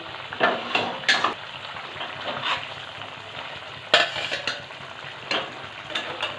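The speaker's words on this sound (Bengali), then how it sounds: "ফুটে উঠেছে, এবার মাছগুলো আমি একে একে দিয়ে দেব।" Pieces of aar fish go one by one into a pot of boiling curry, with soft splashes, metal clinks and a low bubbling simmer between them, close by and with no talking.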